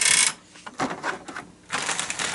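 Quick mechanical clicking in short bursts, a small plastic toy train turntable ticking and rattling close by with brief quiet gaps between.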